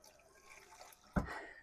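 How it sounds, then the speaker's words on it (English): Water pours from a kitchen tap into a pan of gravy for homemade Salisbury steak, a sudden splashing gush that starts near the end after faint background drips and continues steadily to the close. "I'm just going to get a little more water."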